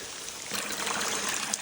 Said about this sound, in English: Monster, downpours, tropical rainforest.